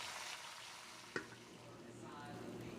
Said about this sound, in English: you're gonna turn it and allow it to cook up on medium